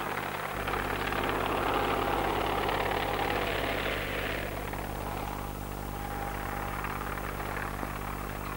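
Helicopter engine delivering samples to a remote field camp, a steady droning engine hum with rotor throb that swells then eases slightly, heard alone without talk.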